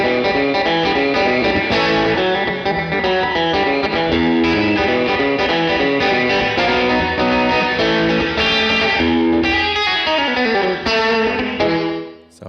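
Electric guitar playing a country-style line through a Boss RV-200 reverb pedal set to a short slapback reverb, with ringing chords and plucked notes, loud and continuous, fading at the end.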